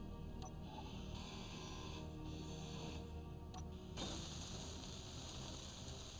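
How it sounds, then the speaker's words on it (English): A handheld grinder in the Space Engineers game grinds down ship thrusters with a quiet, continuous mechanical whirring drone, steady throughout with a slight shift in tone partway through. "I'm gonna grind down each of these thrusters below the functional, just so that way they're considered ours."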